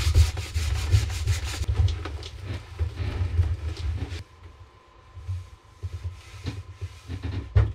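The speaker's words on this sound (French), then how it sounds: "Là donc, je ponce mes petits défauts." Hand sanding of a paint finish with sandpaper to smooth small defects before a final coat: steady close rubbing strokes, louder and denser in the first half, then lighter intermittent scrapes.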